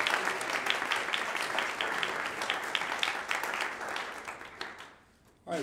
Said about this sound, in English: And how about for another big round of applause for Chris Parkin and the Jazz 2 Ensemble.